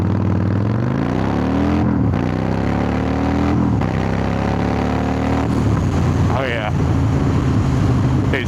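A car with a freshly installed underdrive pulley pulls hard off the line, its engine revving up through first gear, then shifting and climbing again. The sound is loud and close, with wind noise over it.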